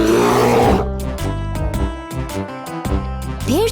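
A cartoon bear at a zoo lets out a loud, growling roar over bright tonal music-like sounds, ending with a quick rising sweep.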